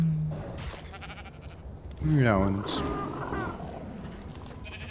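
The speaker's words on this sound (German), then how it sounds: "Da ist ein Schaf!" A sheep in the video game ARK gives a short, wavering bleat mid-clip, clear over soft game ambience, while a person talks before and after.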